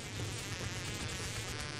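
A bee in A Bug's Life buzzes with a steady, faint, whining drone that holds without a break, close but quiet, with no voices over it.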